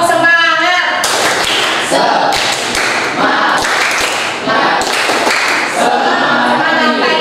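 A class of students does a rhythmic clapping chant, tepuk semangat, at the start of a pastry and bakery lesson; groups of sharp claps land in a patterned rhythm with loud shouted chanting voices between them.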